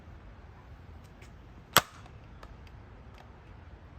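Nerf Elite 2.0 Trailblazer dart blaster fired once in a straight shot outdoors, a single sharp, close pop standing out from faint ambient background.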